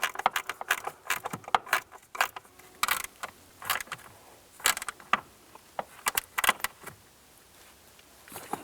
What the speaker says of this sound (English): I'm just going to use a ratchet wrench to tighten that one down.